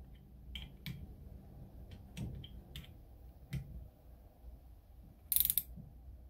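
A ratchet torque wrench tightens engine bolts on a 1983 Yamaha YZ490 motocross engine during assembly: a series of sharp, close ratchet clicks in a quiet room, ending in a quick rapid burst.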